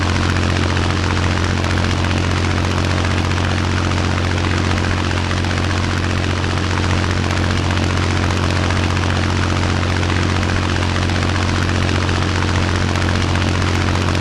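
A Cessna 172 propeller engine drones in the Flight Unlimited flight simulator during a final approach. The engine holds a loud, steady hum with no breaks and no talking.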